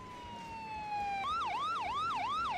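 An ambulance siren in the video game Emergency 4, with a Los Angeles mod, starts as a long steady falling tone, then switches to a rapid repeating wail that rises and falls, loud and clear with no voices.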